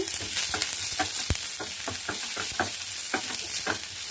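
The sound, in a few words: onions frying in a pan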